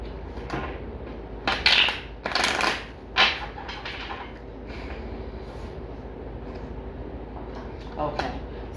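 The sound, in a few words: tarot cards being shuffled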